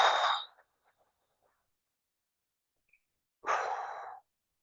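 Breathing exercise: a full nasal breath at the start, then near silence during the hold, then a long, close exhale through the nose.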